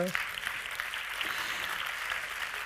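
A hall audience at a business awards ceremony applauds the award-winning laboratories, with moderate, even clapping that carries on steadily and sounds a little distant.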